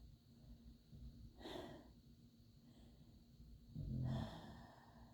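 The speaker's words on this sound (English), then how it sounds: "that's Sadie snoring" A pet dog snores softly nearby, two slow breathy snorts spaced a few seconds apart, the second deeper and louder, over a quiet room.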